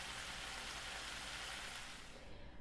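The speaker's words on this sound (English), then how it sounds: "There's our famous sizzle sound we love so much." Bacon frying in a pan as part of a Caribbean shrimp and bacon-wrapped pineapple recipe, a steady dense crackling sizzle that stays loud and continuous throughout with no talking.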